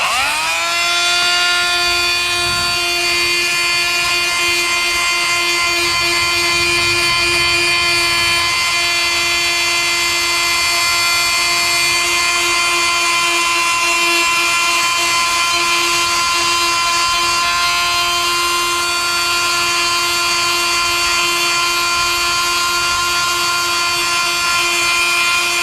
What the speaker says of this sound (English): So I'm just going to use this multi-tool and that carbide bit